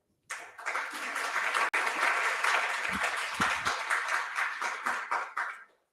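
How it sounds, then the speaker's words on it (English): Audience applause for the director of UTC being introduced at an AI lecture event, a sustained burst of dense clapping lasting several seconds, steady and fairly loud before fading out. "Please, you can applaud her"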